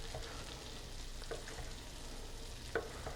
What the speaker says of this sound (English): It's still sizzling a little bit